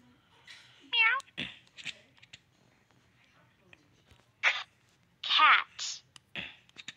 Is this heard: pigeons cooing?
no